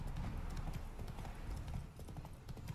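Horse hooves clip-clop in The Witcher 3: Wild Hunt, Heart of Stone, a quick continuous gallop rhythm that stays fairly quiet, mixed with faint ambient game sound.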